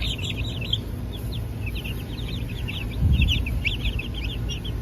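Young hens peeping and chirping in a clean brooder, a steady chorus of quick small cheeps at moderate distance over a low background hum.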